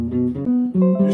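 A few plucked guitar notes in quick succession, close and clear, each sliding a half step up into a chord tone.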